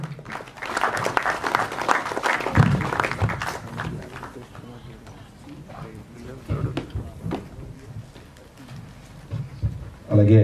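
An audience at a film premiere show gives a burst of clapping that is dense at first and then thins out, while voices talk and murmur over it.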